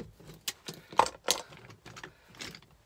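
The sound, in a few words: trimming cable from plugs, throwing them in pot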